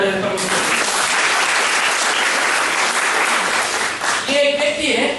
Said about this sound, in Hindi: फिर हमें ताली बजाते परमेश्वर।